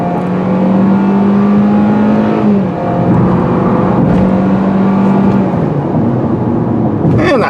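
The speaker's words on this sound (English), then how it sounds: "if you put it in sport mode, it does try hard" A 2020 Hyundai Venue SEL in sport mode revs hard up to 6,500 RPM, its engine droning loudly close by and climbing in pitch through two long pulls, each dropping back after a gear change.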